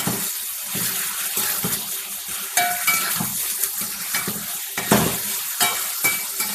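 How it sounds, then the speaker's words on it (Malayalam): Bitter gourd and sautéed onion stirred in a pan for a Kerala thoran, with a steady close scraping and soft sizzle, rising in a few louder strokes, no voices. "അപ്പം നമുക്ക് ഇതൊക്കെ കയ്പ്പയ്ക്കിടാം. ഒന്നിളക്കാം."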